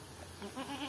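A goat bleats once in a short, faint, wavering cry over steady background noise.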